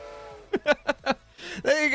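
A Twitch hype train alert chime on a live stream: a short melodic jingle of four quick bright tones followed by a rising shimmering flourish, loud and clear with no talking over it.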